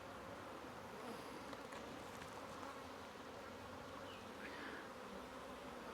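Honeybees buzz around an open hive of a swarmed colony, a continuous, soft, even hum of many wings with no talking.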